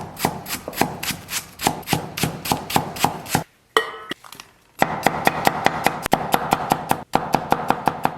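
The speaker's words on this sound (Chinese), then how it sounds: "咱们把蒜给它切成片儿" A knife chops garlic cloves into slices on a cutting board, with rapid, steady close-up taps in two long runs broken by a brief pause and some shuffling.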